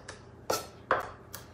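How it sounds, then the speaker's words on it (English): A knife chops fresh sage leaves into a very fine mince on a cutting board in a home kitchen. Three or four crisp, close taps come at an even pace with no talk over them. "This even smells better when you start chopping it up."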